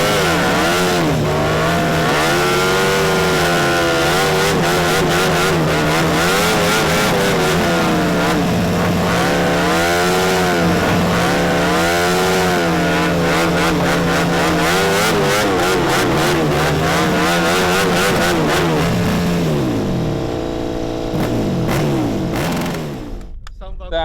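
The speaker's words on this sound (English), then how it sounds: "It'd be great to see some burnouts to end the video." A KTM MotoGP bike and cars do burnouts, engines revving hard and loud with rising and falling whines that sweep up and down repeatedly, close and continuous for over twenty seconds before cutting off, with voices mixed in.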